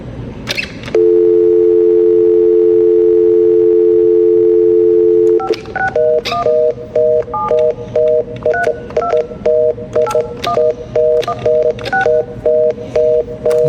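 Telephone tones while calling a non-emergency line: a loud continuous dial tone holds for several seconds, then a quick series of short keypad beeps is dialed in an uneven rhythm, clear and close with no voices.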